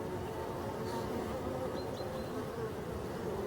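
Honeybees hum densely around their hive as they fly in, a soft continuous buzzing swarm with a few individual bees whining past close by.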